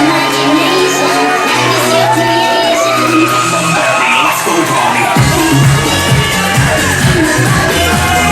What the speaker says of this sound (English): Listen to that ovation from the crowd.